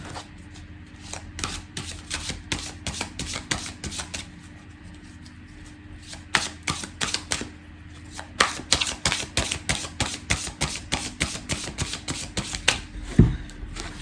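Tarot cards shuffled by hand for a love reading, a long run of quick riffling snaps and soft card slaps, steady and close, with no talking.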